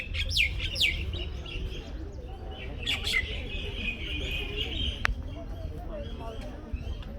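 Birds chirp and sing near a tree at Sukhna Lake in Chandigarh, India, with a few clear high calls standing out over a steady outdoor wash of background sound.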